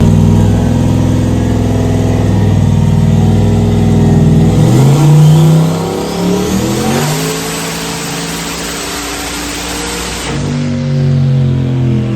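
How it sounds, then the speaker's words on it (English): A loud car engine revs hard on a dyno, climbing steadily in pitch through a long pull, then drops back toward idle near the end. "gonna ride shotgun for this dyno pull. Got an exhaust pipe in my face."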